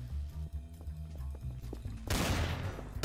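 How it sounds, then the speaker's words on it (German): Gunfire from above in Garry's Mod Trouble in Terrorist Town: scattered sharp shots and clatter first, then a sudden loud, dense burst of fire that sustains to the end. "Oh, wow, ich werde beschossen. Von oben,"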